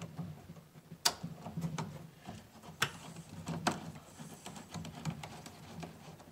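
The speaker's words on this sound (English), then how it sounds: "And we're going to screw it the rest of the way in." Small mechanical clicks and ticks of a part being screwed in during a CzTV pinball mod install, with a few sharper clacks rising above a quiet, steady background and no talking.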